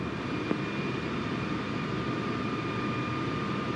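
Steady aircraft engine drone inside Microsoft Flight Simulator 2020 on an ILS approach to Taipei, a continuous even roar with a faint high whine and no speech, at moderate level throughout.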